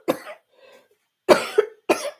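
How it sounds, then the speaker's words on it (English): A person coughing, three or four harsh bursts in quick succession with short gaps, close and with no talk. "I've coughed so much it's starting to hurt"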